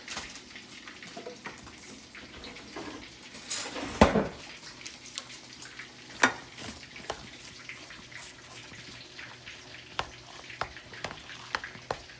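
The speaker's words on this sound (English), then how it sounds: "adding some cheese, give that a nice quick stir." Mashed potatoes with cheese stirred in a pan by a home cook preparing chicken katsu, giving soft scraping and occasional utensil clinks against the pan, with one louder clatter partway through; quiet and close, with no talking.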